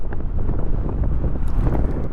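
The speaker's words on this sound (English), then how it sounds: "It's very windy right now." Strong winter wind buffets the microphone on a Honda ADV 150 scooter ride, a loud, continuous roaring rumble with gusty swells throughout and no voices.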